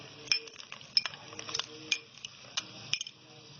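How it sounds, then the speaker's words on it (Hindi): Chopped tomatoes stir-fried with ginger garlic paste in a pan, a spatula scraping and clinking against the metal in irregular strokes over a soft, steady sizzle, close by. "अब इसको अच्छे से भूनेंगे ताकि सॉफ्ट हो जाए।"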